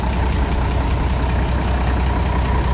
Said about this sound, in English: I don't know if you can hear that engine the way I can